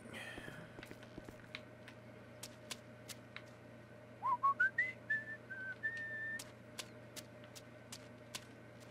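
Michael in Grand Theft Auto V whistles a short rising tune while working a janitor cleanup job, close and clear, with scattered footsteps and faint ambient game noise around it.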